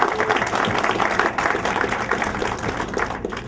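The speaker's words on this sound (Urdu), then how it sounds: "یہ ہماری آرگنائزنگ کمیٹی کے لیے بھرپور تالیاں ایک دفعہ اور بجا دیجیے گا." Steady, full applause from an audience in a hall for the organizing committee, sustained clapping throughout with a faint murmur of voices underneath.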